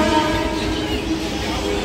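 A Mumbai local train rolls through Dombivli station, a loud, steady roar of wheels and carriages with no break across the short stretch.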